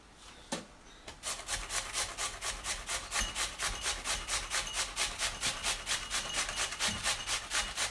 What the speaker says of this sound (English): Do mind your fingers when you're grating.